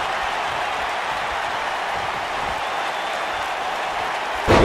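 Steady crowd cheering and applause from an arena audience in the WWE 2K19 wrestling video game, during a women's Royal Rumble match. The roar stays dense and even throughout, then swells louder at the very end.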